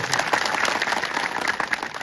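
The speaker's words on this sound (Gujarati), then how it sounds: "એમના માટે જોરદાર એકવાર તાળીઓ પાડતો" A crowd applauds steadily at a Prime Minister's event in Dediapada, a dense wash of many hands clapping at once for village sarpanches, fairly loud and continuous for a couple of seconds.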